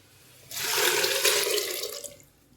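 A steady rush of water and soaked lentils pours into a stone pot for about two seconds, loud and close, then tapers off quickly.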